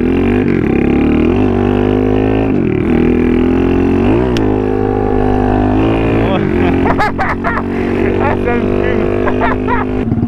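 A motorbike does a wheelie in first gear, its engine loud and close, revving hard with repeated rising and falling pitch sweeps and sharper bursts of throttle near the end.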